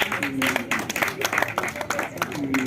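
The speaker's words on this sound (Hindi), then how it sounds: "जोरदार तालियां एक बार विशाल जी के लिए" Applause from an audience at a Hindi theatre-day poetry gathering, steady clapping heard under a voice.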